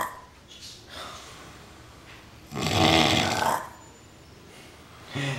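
A man snores loudly with one long, rasping breath that swells to a harsh peak and fades, then a quieter snort begins at the end. Soft room noise fills the gaps.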